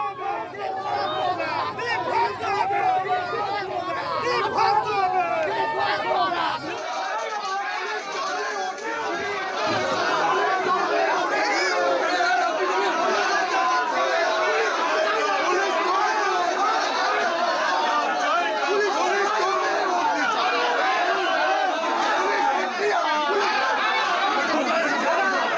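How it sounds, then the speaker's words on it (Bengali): BJP protesters crowding inside the New Township police station, a loud, continuous babble of many voices shouting and talking over one another at close range. "থানা ঘেরাও এবং থানার ভিতরে চলে বিক্ষোভ।"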